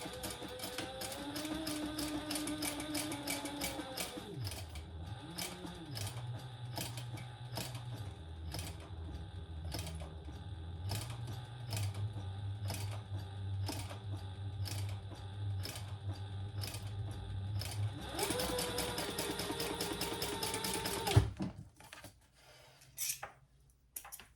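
Sewing machine stitching around a curved handbag, running in steady rhythmic bursts of rapid mechanical clatter with brief pauses and handling noises, ending in a few sharp knocks and quiet.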